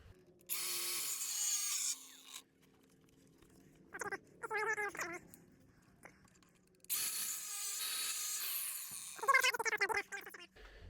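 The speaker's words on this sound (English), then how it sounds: "I just use an angle grinder." Angle grinder cutting slots into pentalobe bolts on a Toyota 2UZ-FE VVTi actuator: two loud, harsh, close grinding bursts separated by quiet gaps and brief metallic clinks.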